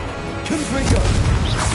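A Confringo blasting spell goes off in Hogwarts Legacy as a loud, dense crash with a rising whoosh. It sits over steady, full-band game noise, with no clear separate voice.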